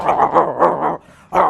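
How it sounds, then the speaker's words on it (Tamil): A male dog barks agitatedly in a quick series of close, loud barks, a short pause, then another bark. "இதை கண்டு ரொம்ப வெசரில் ஆம்பளை நாய் குறைக்குது."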